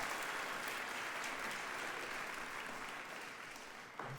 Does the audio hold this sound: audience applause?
yes